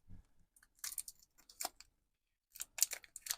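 Scissors make several short, crisp snips in two bursts separated by a pause, close and fairly quiet, with no talking, during model building.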